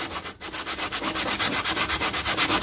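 Sandpaper rubs a cracked plastic bucket in rhythmic back-and-forth strokes, a steady scratchy rasp repeating about six times per second, close and alone with no voices.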